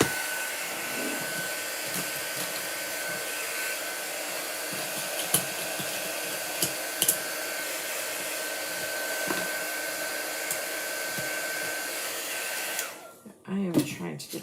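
A hair dryer drying chalk paste on a craft project: a steady, loud, continuous blowing whir that runs for many seconds before switching off near the end, with a few light clicks.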